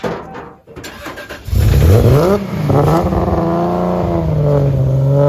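A modified Toyota Supra with a stock transmission starts up with a short crank. Its engine then catches and revs loudly before settling into a steady, throaty idle, heard close by.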